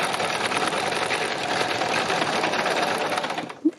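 A sewing machine stitches fabric at a steady, continuous whirring pace, loud and close, before stopping abruptly near the end with a single small click.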